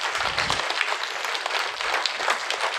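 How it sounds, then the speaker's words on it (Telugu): Steady audience applause at a youth spiritual programme, dense and continuous for the whole stretch at moderate loudness with no talk over it. "చప్పట్లు కొడదామా?"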